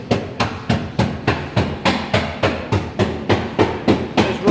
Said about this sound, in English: with all the hammering going on.